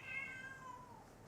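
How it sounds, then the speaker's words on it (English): A pet cat meows indoors, a single faint drawn-out cry with a gently falling pitch, alone without talk. "That's my cat."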